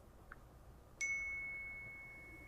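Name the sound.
iPhone message notification tone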